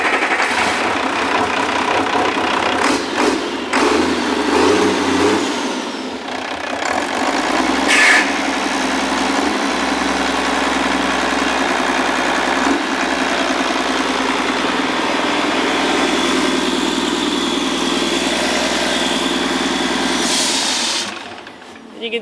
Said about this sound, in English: pull the trigger, and start the engine again